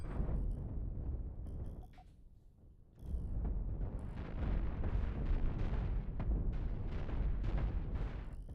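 Cannon ship being destroyed in a Cosmoteer space battle, a string of heavy rumbling explosions and crackling blasts that dip briefly, then surge back into sustained booming destruction.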